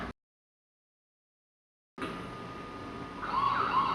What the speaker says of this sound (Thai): ส่วนเสียงไซเรนที่ได้ยินนี้นะคะ ก็เป็นเสียงที่ออกมาจากกล้อง CCTV